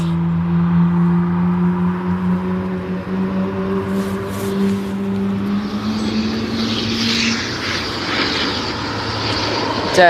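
Boeing 777 jet engines spooling up at East Midlands Airport, a steady low engine drone with rising tonal whine and a broad roar building through the second half, with faint voices in the background.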